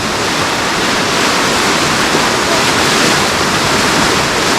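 A loud, continuous roar of rushing water fills the whole stretch, steady and broadband like a waterfall up close, with no voices.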